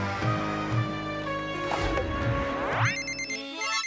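Cartoon telephone ringing during a call in the animated series Gattu Battu: repeated electronic ringtone pulses, followed by a rising synthetic sweep and a bright trill, with no talking.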